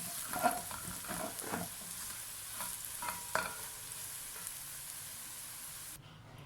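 Sliced onions frying golden in oil, a soft continuous sizzle broken by several spatula stirs and scrapes, moderately close with no talking.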